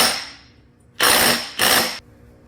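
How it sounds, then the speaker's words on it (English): An impact gun fitted with a chrome socket, working in a shop on a 1960s Simplicity Wonderboy 600 garden tractor, fires two loud rattling hammering bursts close by, each about half a second long, after a fading earlier burst, with no talk. "putting a chrome socket on an impact gun"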